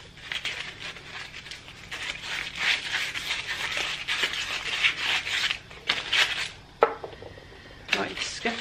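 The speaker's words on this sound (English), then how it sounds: "Right, scuff sand all these." Furniture is scuff-sanded by hand for an all-in-one paint makeover, with close, rough rubbing strokes in uneven bursts and brief pauses between passes.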